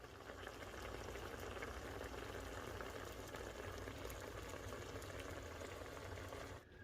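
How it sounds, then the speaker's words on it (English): Homemade cranberry sauce simmering in a pot on medium-low heat, a steady, dense bubbling and fizzing up close that stops abruptly at the end, with no voices. "You want to keep it at a simmer."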